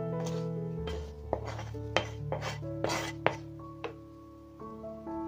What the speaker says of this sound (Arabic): غادي نقطع هادو